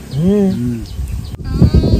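Goats out grazing near irrigation canals let out a couple of short, close bleats, followed by rustling and low handling noises.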